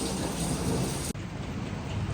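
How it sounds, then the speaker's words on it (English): Heavy rain roars steadily in a dense, loud wash, with a low rumble of thunder underneath and a brief dip partway through. "It has not eased up on us one bit with the rain."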